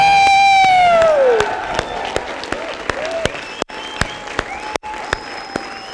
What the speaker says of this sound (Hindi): जोरदार तालियों के साथ अपनी सीट पे फिर से खड़े हो जाएं